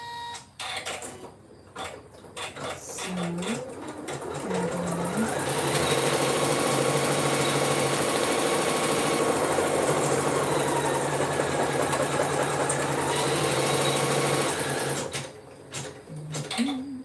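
A home embroidery machine stitching a clutch in the hoop runs as a steady mechanical whir and rapid needle chatter, starting after a few seconds of soft handling noise, holding loud and constant, then stopping near the end.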